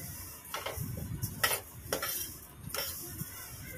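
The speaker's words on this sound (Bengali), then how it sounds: "আজকে ফাইনালি ডালটা ভেজেই রাখছি আমি।" Lentils (dal) dry-roasted in a pan, giving soft rattling and scraping as the grains are stirred, with a few sharp clicks of a utensil against the pan, fairly quiet and close.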